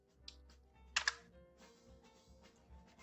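Keys clicking on a computer keyboard while typing a search into Google Chrome, with a short burst of two sharp louder taps near the middle among quieter scattered clicks, close and alone.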